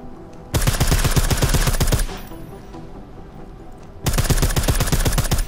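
Silenced weapon fire in Deus Ex: Mankind Divided, two rapid bursts of clattering shots, each lasting about one to two seconds, close and loud with a short lull between.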